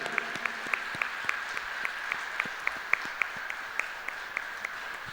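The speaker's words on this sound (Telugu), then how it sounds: "దేవునిపై ఆధారపడి జీవించే వాళ్ళు గట్టిగా చప్పట్లు కొట్టాలి." A congregation at a Sunday evening Mass in a Hyderabad shrine claps together in a steady, even rhythm, with a continuous hum running underneath.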